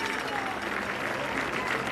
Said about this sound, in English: A round of applause from everybody here.